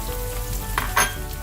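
Onions frying in a small pot with curry leaves for a tilapia and green mango fish curry, a steady close sizzle with a couple of brief stirring scrapes near the end, no talk.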